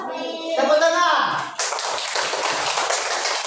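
A classroom of students bursts into a round of hand clapping right after a voice, the applause dense, steady and fairly close and continuing to the end.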